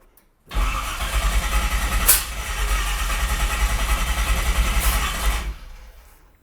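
A car's V8 engine with newly installed coil-near-plug ignition cranks with a steady churning drone for about five seconds, loud and close, before cutting off; it sounds like it is not firing in order properly.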